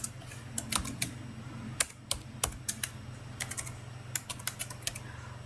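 Keys on a computer keyboard tapped while typing a document in Microsoft Word, with irregular bursts of sharp clicks and short pauses over a faint low background hum.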